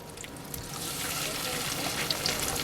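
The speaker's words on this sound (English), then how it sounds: "Can you hear that frying away?" Steady sizzling and crackling of fish fingers frying in a skillet over a fire, a continuous bright hiss with faint pops and some low background rumble.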